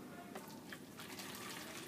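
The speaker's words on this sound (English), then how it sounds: "I pour it in my bucket" Water pours into a bucket for mixing plaster, a short continuous splashing gush that is fairly faint.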